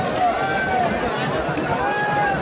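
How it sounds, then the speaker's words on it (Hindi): Dense crowd of pilgrims at a ghat in Haridwar during the Kanwar Yatra, a steady wash of many voices, footsteps and bustle, loud and continuous throughout. "वहाँ पे कितनी ज़्यादा भीड़ है भाई"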